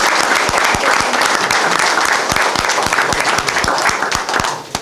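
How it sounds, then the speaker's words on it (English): An audience at a police detectives' swearing-in ceremony applauds steadily for several seconds, a dense patter of clapping hands that fades slightly at the end. "So let's give them a round of applause."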